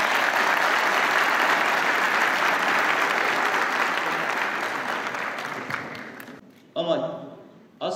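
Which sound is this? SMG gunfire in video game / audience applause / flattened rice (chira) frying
audience applause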